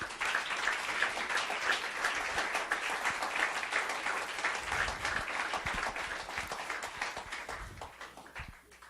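A church congregation claps and cheers at a pastor's sermon, a broad crowd applause that rings out strongly and then gradually thins and fades toward the end.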